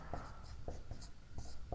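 Angle names are written on a board in short, crisp strokes that tap and scrape at an uneven pace, close and clear, with no talking.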